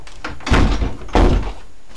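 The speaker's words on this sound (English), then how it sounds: "Okay, so now we move the door over." A door being moved into place during bedroom light switch and outlet wiring work, giving two heavy, close wooden thunks about half a second apart.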